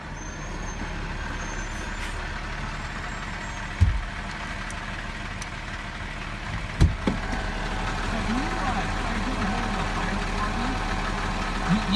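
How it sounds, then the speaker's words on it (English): A Spokane city garbage truck's engine runs in a steady low rumble throughout, with two short sharp bursts that sound like air-brake hisses or clanks partway through. "Here comes garbage truck number 2."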